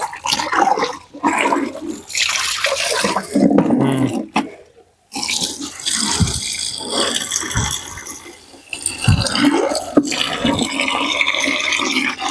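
Water splashes and gurgles as clothes are washed by hand, with uneven bursts of pouring and sloshing, a brief pause midway, and close, fairly loud splashing.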